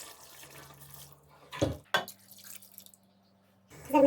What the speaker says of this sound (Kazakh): 200-300 грамм су құямыз